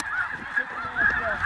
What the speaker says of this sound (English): we got a bunch of geese coming